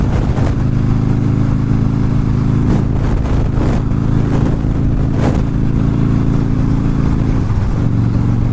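Motorcycle engine drones steadily while riding onto a freeway, heavy wind roaring inside the rider's helmet, loud and constant with a few brief gusts.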